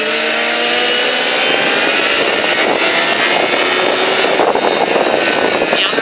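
Motorcycle on a race track at Alès re-accelerating hard, a loud sustained engine roar with rising harmonics as revs climb and a gear change, continuous and close throughout.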